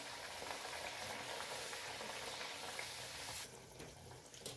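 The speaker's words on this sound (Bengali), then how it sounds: "তেল গরম করতে দিয়ে দিয়েছি। একে একে কচুরিগুলি ভেজে নিতে" Kachori stuffed with chhatu frying in hot oil, a steady dense sizzle that stays fairly faint and continuous, easing slightly toward the end, with no voices.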